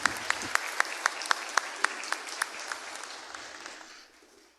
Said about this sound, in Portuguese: Palmas para os líderes da nossa congregação também.